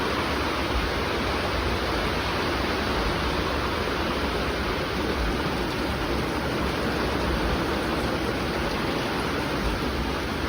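Steady, dense hiss of heavy rain pouring and dripping continuously at night, loud and close, with no breaks.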